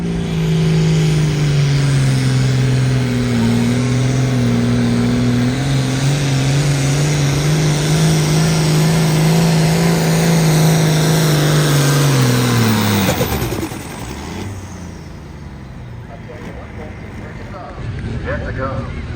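The pulling truck Buzzard Bait roars along at a truck and tractor pull, a loud sustained engine howl at steady pitch that drops off sharply near the end, with an announcer talking over it.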